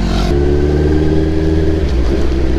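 A Honda CBR650R sportbike engine droning loud and close, its pitch dropping sharply after a brief high rev at the start, then holding a steady, throaty note.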